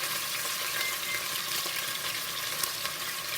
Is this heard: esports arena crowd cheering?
no